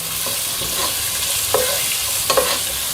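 Chopped large onions sautéing in hot oil on a home stove, a steady soft sizzle with a few clinks and scrapes of a spoon stirring them through the pan.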